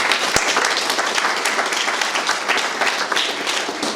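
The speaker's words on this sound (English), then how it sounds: "Let's give a round of applause for that." An audience gives a round of applause at a hospice anniversary ribbon-cutting, a dense, steady burst of clapping filling the whole stretch at a fairly close distance.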